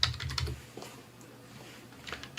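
Keys clicking on a computer keyboard in short, quick bursts of typing with a pause in between, close and alone.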